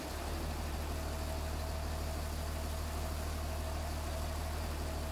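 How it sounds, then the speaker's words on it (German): A tractor engine idles in Farming Simulator 19, a steady low drone that holds evenly throughout with no talking over it. "Also, Motor sollte man ausstarten, ne?"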